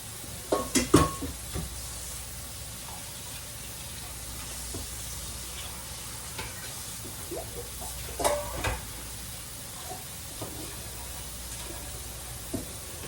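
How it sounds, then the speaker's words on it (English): Potatoes frying in a pan for crusty fries, a continuous low sizzle with occasional scrapes and clinks of a utensil against the pan, loudest near the start, with no talking. "let that crust start getting fried on them good before you start stirring them around"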